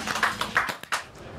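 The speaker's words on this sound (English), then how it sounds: "Oh, and a round of applause." A brief, small round of applause from a podcast studio, a handful of sharp, uneven claps up close that quickly trail off, no talking over them.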